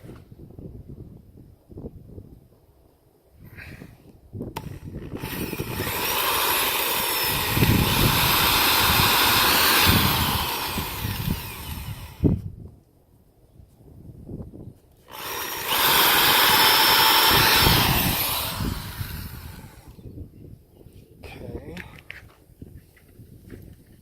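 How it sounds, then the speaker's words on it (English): A power drill whirs in two bursts of several seconds each, drilling holes for number 8 sheet metal screws on an RV trailer, separated by a pause, with someone talking in between and around them. "And so I'm going to drill these holes."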